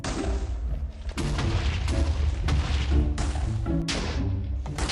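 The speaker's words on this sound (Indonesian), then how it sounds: "Untuk menyalakan TNT-nya, aku gunakan flint and steel. Ini adalah ledakan pertamaku." A rapid series of booming TNT blasts in Minecraft, lit with flint and steel while mining for ancient debris, several explosions overlapping loudly one after another with no pauses between them.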